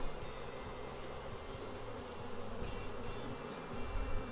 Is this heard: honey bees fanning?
yes